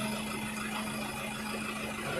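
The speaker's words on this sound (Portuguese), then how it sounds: "a gente vai agora acompanhar aqui a retirada do trator" A small family farm's tractor engine runs steadily at idle, a constant low drone with an even hum that continues without a break.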